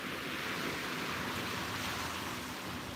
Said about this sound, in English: The waves are nice and loud today.